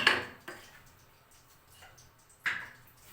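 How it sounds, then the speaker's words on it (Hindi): A spoon clinks against a bowl while spices and turmeric are mixed for an aloo naan filling, giving three scattered, fairly quiet knocks with soft rustling in between. "तो इन चीज़ों को हम करेंगे मिक्स"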